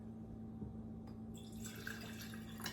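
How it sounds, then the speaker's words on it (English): Warm water pours into a glass mason jar, a steady trickle that brightens into a fuller splashing fill partway through, close and alone. "So I have a mason jar, 2/3 cups of warm water."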